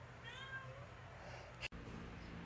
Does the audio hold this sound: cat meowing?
yes